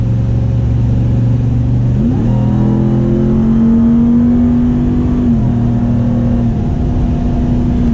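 A 2023 Dodge Ram TRX truck accelerating, heard from inside the cabin as a loud, steady engine drone whose pitch climbs, drops at a gear change and holds, with no talk.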